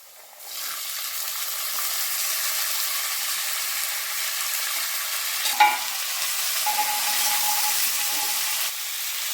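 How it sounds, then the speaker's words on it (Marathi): Cluster beans dropped into a hot red tempering for a homemade gawar sabzi, setting off a loud, steady sizzle that hisses on close by, with a few brief clinks of stirring midway. "आता आपण हे गवार टाकून घ्यायची।"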